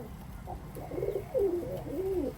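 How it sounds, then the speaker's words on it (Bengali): A pair of Sakiredi pigeons, a Pakistani breed, coo at close range, several rolling low coos in a row over faint background noise. "দেখেন এই জোড়া সাকিরেডি কবুতর,"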